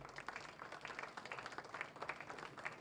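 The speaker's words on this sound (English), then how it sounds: "A big round of applause." An audience at a Britam insurance company anniversary celebration in Tanzania gives a round of applause, a quiet, somewhat distant patter of many hands that pulses unevenly for the whole stretch.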